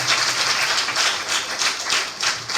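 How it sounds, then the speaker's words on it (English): Applause from an audience at a faith-based youth peace workshop, a steady dense wash of many hands clapping throughout, fairly loud and close with no talk over it. "Please, a round of applause for him."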